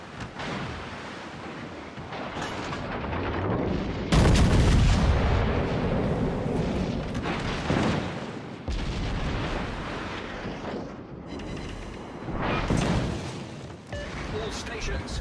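Warship naval guns firing in a battleship video game; heavy booming salvos and rumbling blasts recur over a continuous roar, loud and close, with a voice speaking over the action.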